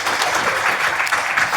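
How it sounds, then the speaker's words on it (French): Brief burst of audience applause at a talk on integrative medicine, a steady dense wash of clapping hands from a group filling the short moment without pause. "On peut applaudir l'applaudissement collectif."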